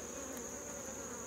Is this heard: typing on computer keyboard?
no